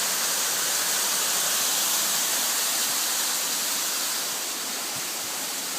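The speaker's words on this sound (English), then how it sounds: "And there's the brook right here." Beaver Brook cascading down a steep drop beside the Mt. Moosilauke trail, a constant, full rushing hiss of water close by, steady throughout with no voices.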